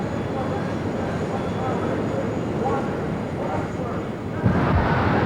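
A jet funny car's roaring, broadband engine blast holds steady throughout at a 1994 Gainesville drag race, swelling louder near the end, with voices talking over it.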